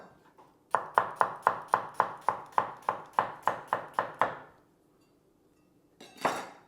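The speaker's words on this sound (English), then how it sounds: "Onions. Cut in half." A knife chops halved onions on a cutting board for chilli con carne, with about fourteen quick, evenly spaced knocks close up, then a pause and a brief louder scrape.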